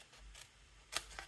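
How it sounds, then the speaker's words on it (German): Paper scissors snipping card for an Easter basket, a few faint crisp cuts spaced irregularly, close but quiet with no talk. "Nehme mir danach die Papierschere"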